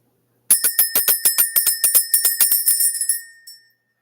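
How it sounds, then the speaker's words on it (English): A small bright bell rings rapidly and repeatedly, around twenty quick metallic dings in a steady rhythm, then stops with one last faint ding. "We're going to ring this bell."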